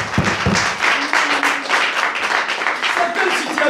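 A church congregation in Montpellier claps in a steady rhythm, the applause close and lively, with voices speaking and calling out over it throughout.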